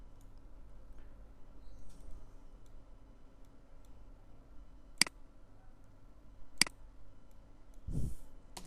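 A computer mouse clicks in garment pattern design software: two sharp, isolated clicks a second or so apart, then a softer rustle, over a quiet room hum.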